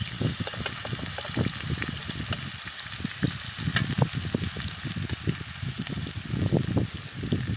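Ginger and green chilies hit hot oil already tempered with mustard seeds, cumin and asafoetida, crackling in a busy, uneven sputter of pops over a steady sizzle, close and fairly loud with no voices.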